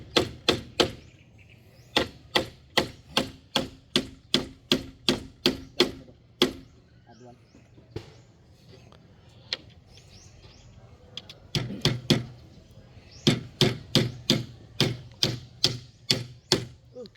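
A plywood sheet is tacked down to a 2x2 wooden base on a concrete slab, giving quick sharp hammer-like taps in steady runs of a dozen or so, a pause in the middle, then another burst, close and clear.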